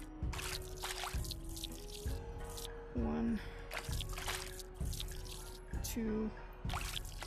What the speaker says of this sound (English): Place five scoops of water in the wok.